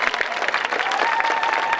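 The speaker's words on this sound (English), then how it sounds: "let's give us a round of applause again" Applause from a graduation ceremony audience, dense steady clapping sustained throughout with a faint crowd bed and no clear speech.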